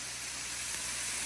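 Keto Benihana-style fried rice sears with garlic butter on a hot grill, giving a steady, close, broad hiss that holds at an even level throughout.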